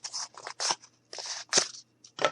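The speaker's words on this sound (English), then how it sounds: "And then you're going to take your scissors." Scissors snip through material wrapped around many times, several crisp crunching cuts in irregular bursts with short pauses between, close and fairly loud with no talk.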